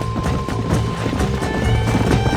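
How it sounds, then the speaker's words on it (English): Horses in the Red Dead Redemption video game clattering along in a dense, steady gallop of overlapping hoofbeats, with game music and ambience mixed underneath. "There's the horses!"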